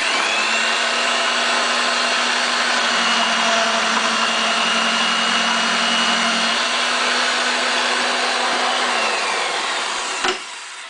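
A RIDGID 1233 bench-type pipe threading machine runs steadily while burrs are reamed from inside a cut pipe, a loud continuous motor whine and grinding hum lasting about ten seconds before stopping abruptly.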